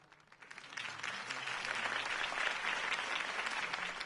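Crowd applause erupts after a campaign speech in the Batman Telltale video game, swelling within half a second into a dense, steady roar of many hands clapping that holds loud to the end.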